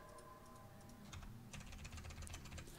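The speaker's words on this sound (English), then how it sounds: "So if you can count your keyboard presses, it's 13 presses exactly." Computer keyboard keys are pressed in a quick run of light clicks during a Riven speedrun, faint over a steady background hum, with the tapping growing busier toward the end.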